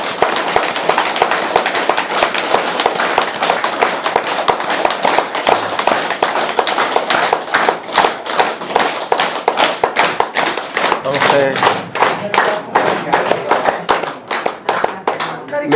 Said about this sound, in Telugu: 2 సెకండ్లు క్లాప్ కొడదాం.